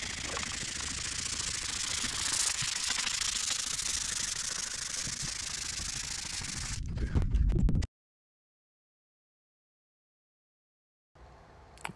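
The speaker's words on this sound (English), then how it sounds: "sanding and applying the polyurethane and sanding and applying the polyurethane" Sanding polyurethane finish on a wooden Baker furniture side table with fruit and sunflower inlay, a steady broadband scrubbing hiss that runs close and continuous for about seven seconds, ends with a few rough scrapes, then goes silent.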